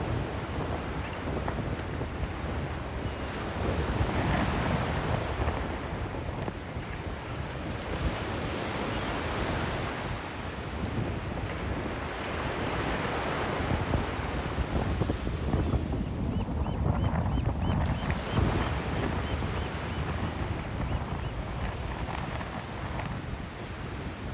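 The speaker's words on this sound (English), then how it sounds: "I love watching the wind blowing on the sand." Strong wind roars across an open San Francisco beach, blowing sand and buffeting the microphone, with surf rumbling beneath in a continuous loud wash and no voices.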